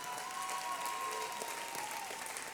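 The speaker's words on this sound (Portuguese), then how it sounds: "Uma salva de palmas para os corajosos dessa noite." Church audience applause during an evening service, a soft but steady crackle of many hands clapping at some distance, with a faint held tone beneath and no voices.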